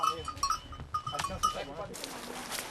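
Goats of the kind loaned to rural families for income bleat several times in short, wavering calls, close by, with other farm animals faintly in the background.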